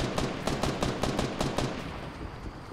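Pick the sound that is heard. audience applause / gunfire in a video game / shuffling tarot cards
gunfire in a video game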